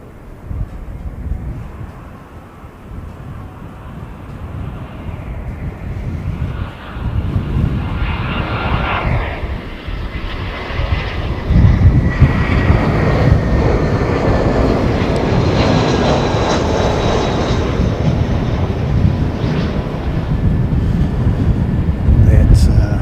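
Jetstar airliner engines passing the spotting spot, a loud broad roar that builds and holds with a sweeping whine, heard under light wind noise with a person talking at times.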